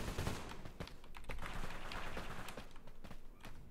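Rapid gunfire in Totally Accurate Battlegrounds, a dense stream of quick shots and clatter running throughout at fairly low level.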